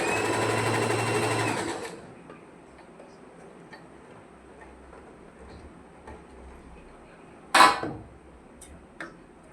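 Sewing machine stitching a churidar, a fast steady whir for about two seconds that then stops, leaving quiet room sound with a brief handling noise later.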